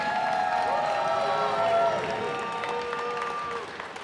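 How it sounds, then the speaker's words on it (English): Audience applause and crowd noise in a hall for former Pittsburgh Steelers receiver Louis Lipps, a steady wash of clapping lasting throughout with some voices mixed in, easing slightly at the end. "can we give another round of applause to Louis Lips?"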